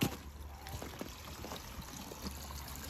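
Water trickles and pours in a steady stream, close by and fairly quiet, with faint splashing as a water balloon fills.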